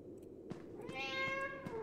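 A cat in the video game Five Nights at Freddy's: Into the Pit meows a few times with a thin, game-like tone over a low steady background hum; moderately close and clear.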